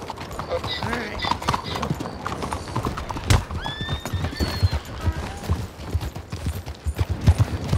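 Horse hooves clip-clop in a steady rhythm up close in the video game Red Dead Online, with a whinny and people talking over the hoofbeats.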